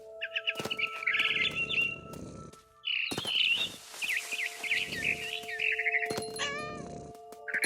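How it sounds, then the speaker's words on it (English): Bright, repeated barn swallow chirps and tweets from a video game, What Remains of Edith Finch, over a steady synthetic hum, with a meow-like cry mixed in, close and continuous. "Then I heard chirping outside my window. It was a barn swallow going back to her nest."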